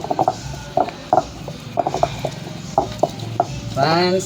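Coconut for chutney ground by hand in a traditional stone mortar grinder, giving a series of irregular hard knocks and scraping clacks, close and fairly loud, with a brief voice at the end.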